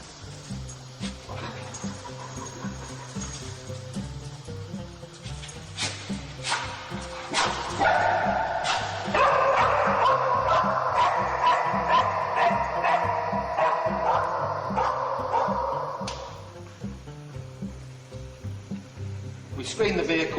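A police sniffer dog screening parked vehicles barks and yips in short repeated bursts over busy background noise, with people talking nearby.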